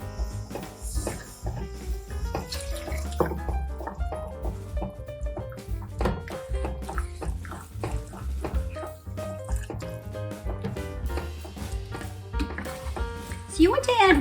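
Hot water is poured into a thick Creole sauce in a pot, with splashing, trickling and clinking utensil knocks under a person talking.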